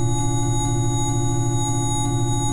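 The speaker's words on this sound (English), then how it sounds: "every 2 oscillators is going through a ring modulator, which eventually sounds like this" Six synthesizer oscillators run in pairs through ring modulators, producing a steady metallic, gong-like drone of many sustained tones that hold at an even loudness throughout, with no talking.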